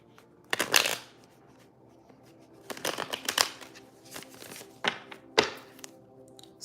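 A deck of tarot cards is shuffled and handled in several quick riffling bursts with short pauses between them, crisp and close, with no talking.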